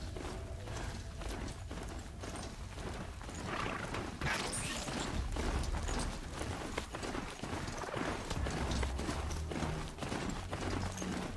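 A mechanical horse in the Horizon Zero Dawn video game clip-clops along in a quick, steady rhythm of hoofbeats, fairly faint, with clanking machinery and scattered noise mixed in.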